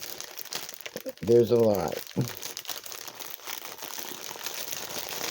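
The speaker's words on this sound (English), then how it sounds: "Sorry for the crinkling, guys. Crinkling and trying to talk." Plastic parts bags crinkle and crunch during an unboxing, in loud bursts around the middle with quieter rustling after, while a person talks over it.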